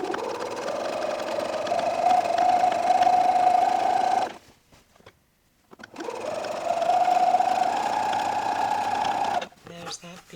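A sewing machine runs steadily, stitching around a wrap dress seam to encase the raw edge. It hums in two long bursts, about four seconds each, with a short pause between them.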